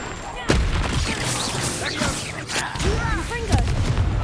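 A Confringo blasting spell goes off in Hogwarts Legacy with a sharp burst followed by a rumbling crackle of impacts during a fight, while voices shout over the blasts.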